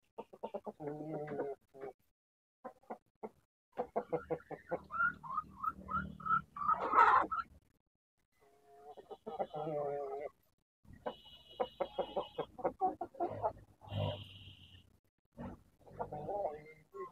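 Four-month-old Igtanaka giant chickens cluck in bursts, close by, with a few louder squawks and brief pauses between the calls.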